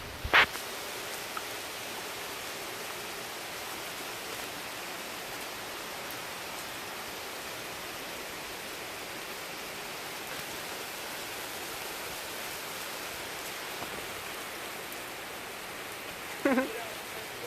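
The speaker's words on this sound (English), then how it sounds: "And then it just started to rain with the sun out and everything." Light rain falls on a backyard garden while the sun is out, a steady, even hiss of drops that holds through the whole stretch, with a couple of brief knocks near the start and end.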